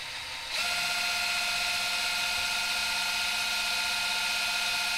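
A power drill, used as a pump to draw differential gear oil from a 1948 Chevrolet Fleetmaster, whirs into action after a brief quiet moment, then runs continuously with a steady buzzing mechanical drone, close and fairly loud.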